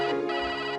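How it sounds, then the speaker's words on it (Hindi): Phone ringtone ringing in a home, a steady electronic melody with rich stacked tones, loud and continuous for under a second with no voices. "रेखा जी का फोन होगा"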